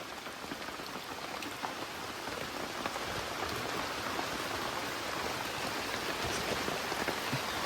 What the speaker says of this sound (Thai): นอนฟังเสียงฝนตกไปด้วยนะ